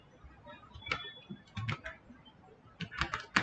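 Keys tapped on a computer keyboard to enter a shutdown command on a Windows XP machine, in a few short bursts of clicks separated by pauses, close and moderately loud, with no talking.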